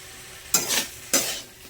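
Chicken stew cooking in a pan with softened tomatoes is stirred in two close, scraping sweeps, each a loud, sizzling rasp that swells and fades, with quiet background between.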